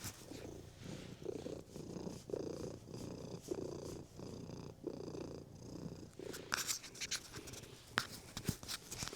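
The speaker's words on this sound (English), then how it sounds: "I don't know if you can hear his purring." A cat purrs steadily up close in a low, rhythmic rumble, joined near the end by faint scratching and rustling.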